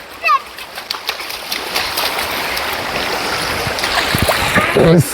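Water splashes and churns steadily close by as children play in an estate stream, with bursts of splashing and a voice rising briefly over the stream noise.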